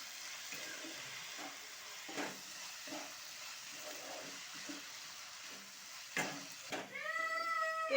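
Spice masala with turmeric, chilli powder and cumin powder sautés in a pan for an okra fry, soft intermittent sizzling with occasional stirring scrapes, quiet at first and then swelling into a louder sizzle toward the end.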